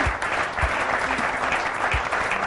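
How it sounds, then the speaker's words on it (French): A church congregation applauds its preachers with steady, dense clapping that is continuous and moderately loud, without distinct pauses. "nous pouvons les acclamer, rendre gloire"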